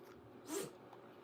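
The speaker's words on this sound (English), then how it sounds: "Bless you. That was a big sneezes." A single sharp sneeze bursts out amid quiet room tone, brief and fairly faint, rising to a short peak and then dying away.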